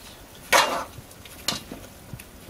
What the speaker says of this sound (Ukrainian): То гарно з м'ясом перемішуєш цибульку.